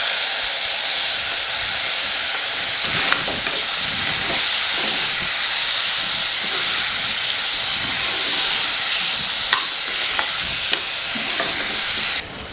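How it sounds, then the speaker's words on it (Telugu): Tomatoes tipped into a hot pan of fried ivy gourd and green chillies, setting off a loud, steady, steamy hiss that carries throughout with occasional stirring scrapes, dropping away right at the end; no talking. "ఇప్పుడు టమాటాలు వేస్తున్నాను."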